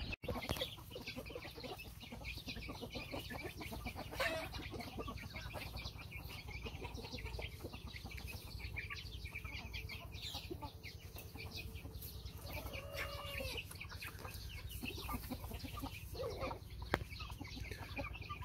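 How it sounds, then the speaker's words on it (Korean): Shamo chickens newly moved into a shared coop cluck and murmur over a constant low background hum, with a few sharper calls standing out now and then. "지금 비추고 있는 요 샤모 닭"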